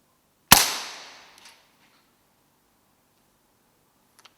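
A single sharp crack from a Weihrauch HW98 air rifle shooting at rats on a farm at night, close and loud with a short decaying tail, followed by near silence and a faint tick.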